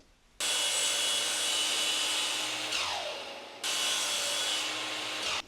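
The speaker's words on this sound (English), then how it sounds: "I went ahead and trimmed those down" A saw trims wooden fireplace mantel pieces to size in two loud, sustained bursts, with a short lull between them and no talking.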